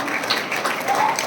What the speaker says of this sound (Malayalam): ഈശോ യേശോ പറഞ്ഞു കൈയടിച്ചോ